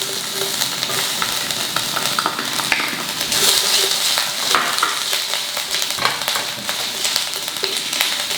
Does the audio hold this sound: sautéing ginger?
yes